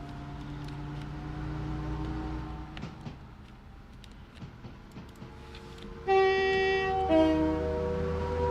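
A Virgin Trains express on the West Coast Main Line in Train Sim World roars past at about 125 mph with a steady rumble. It sounds a loud two-tone horn near the end.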